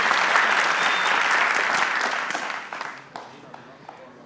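A studio audience on a Family Feud–style game show claps in loud sustained applause that gradually fades and thins toward the end.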